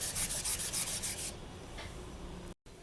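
Sandpaper rubbing over polymer clay earrings, quick rhythmic strokes close up for about a second, then a softer steady scraping before a brief pause.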